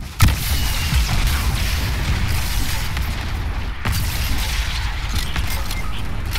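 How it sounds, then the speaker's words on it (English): Gunfire in a Fortnite match shooting open an opponent's built wall: a sharp loud shot at the start and another mid-way, over a steady, rumbling game backdrop of muffled impacts. "I shot his wall open and he just jumped over"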